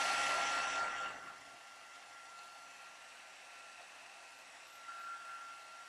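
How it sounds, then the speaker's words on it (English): A hair dryer blows loudly on a soaking wet handmade card for about a second, then drops to a steady, quieter whir that runs to the end with a slight swell near the close. "I'm going to hit this with a dryer."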